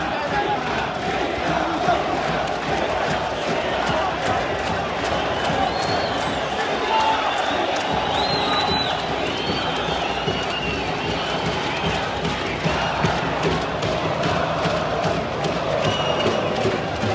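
Football crowd cheering at Mohammed bin Zayed Stadium in the UAE before the Super Cup, a dense continuous roar of chants and shouts with people talking nearby over it.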